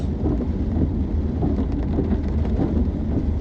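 Steady rain pours down on a flooded city street in Malang at night, a dense, continuous hiss with faint rumbling underneath and no voices.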